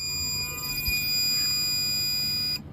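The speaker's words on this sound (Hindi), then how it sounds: "ये मेरे वोल्ट मीटर की आवाज़ है।" A continuous high-pitched electronic beep from a car voltmeter at ignition sounds steadily for a few seconds before cutting off abruptly, with faint low rumble underneath.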